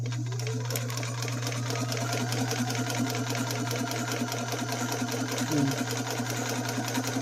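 A sewing machine runs steadily during a stitching demonstration, giving a continuous close, even mechanical hum and rapid needle clatter throughout with no talking.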